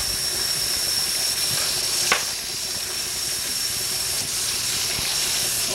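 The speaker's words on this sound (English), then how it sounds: "Time for a quick rinse." Tap water runs steadily for a quick rinse in a home setting, a continuous close hiss throughout with a brief splash or knock near the middle and no talking.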